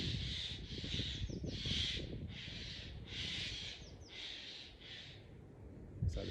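Several birds calling at dawn, harsh repeated caws in a steady series of bursts, moderately close over a low rumbling background.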